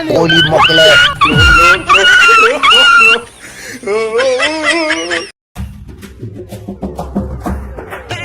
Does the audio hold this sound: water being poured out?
no